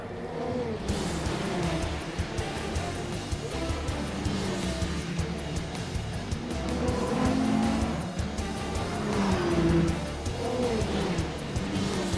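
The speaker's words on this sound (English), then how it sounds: "the Peugeots race out to an early lead, which increases by the lap" Peugeot race cars lapping at the Le Mans 24 Hours, a continuous loud engine roar with rising and falling pitch as they speed past, steady throughout with no gaps.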